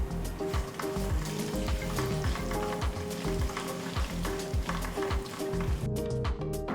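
Mustard and cumin seeds crackle and sizzle in hot oil, a dense, continuous popping with occasional stirring scrapes, close and steady throughout.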